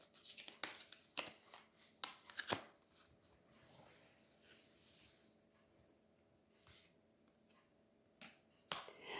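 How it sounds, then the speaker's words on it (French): Tarot de Marseille cards handled and drawn from the deck, producing a few quick close flicks and papery snaps near the start, then quiet rustling and sparse soft taps in a hushed room. "Je vais retirer une carte."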